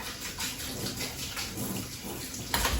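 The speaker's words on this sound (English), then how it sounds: "I'm gonna give it a little rinse though." Tap water running steadily into a sink while onions for pickling are rinsed, a continuous hissing splash with small fluctuations and a sharper gush at the very end, no talk.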